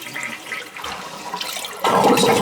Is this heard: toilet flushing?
yes